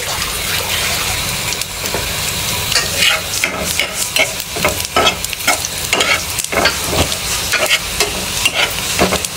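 Cumin goes into a pan of khichuri with a steady sizzle, then a spoon stirs and scrapes repeatedly through the thick, bubbling mixture, close and fairly loud, with no talk.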